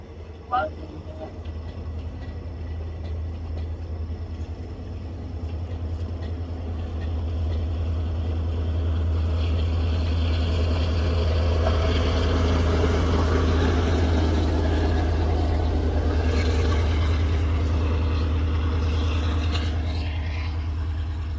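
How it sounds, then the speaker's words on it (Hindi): A moving train with engines at both ends makes a loud, steady rumble with a strong low drone that swells and holds throughout, along with rattling noise; voices can be heard faintly beneath it. "ट्रेन के दोनों तरफ में इंजन है और बहुत ज्यादा नॉइस है, बहुत ज्यादा नॉइस।"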